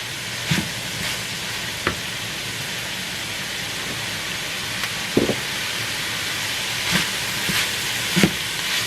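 Onion sautés in ground beef fat with a continuous soft sizzle, broken by a few sharp clicks and taps of a utensil against the pan.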